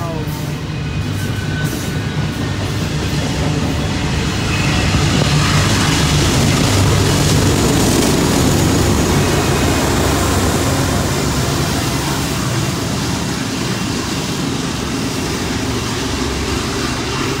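A BNSF freight train with a distributed power locomotive rumbles past close by in downtown Flagstaff, a steady, heavy roar of engines and rolling wagons that swells in the middle and holds loud throughout.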